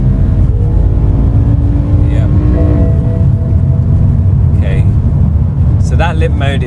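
A BMW fitted with an S85 V10 engine and DCT gearbox kicks down from seventh to third under full throttle, rising engine tones sweeping upward, close and loud, with someone talking over it.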